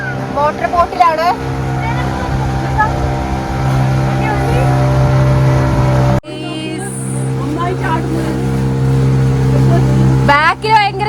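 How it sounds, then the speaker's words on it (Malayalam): A motor boat ride at the Ooty boathouse: a loud, steady engine drone with harmonic whine carries throughout, with passengers talking over it nearby. "മോട്ടോർ ബോട്ടിലാണ്."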